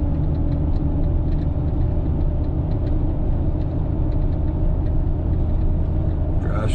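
Lifted Toyota Tundra crew cab 4x4 pickup on a test drive, heard from the cab as a steady, loud low engine and road rumble with faint ticking, no talk.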